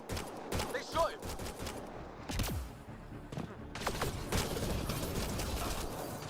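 Gunfire in Mass Effect: Andromeda: scattered sharp shots and bursts crack over a background of game ambience, with a voice calling out amid the shooting.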